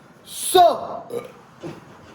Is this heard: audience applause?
no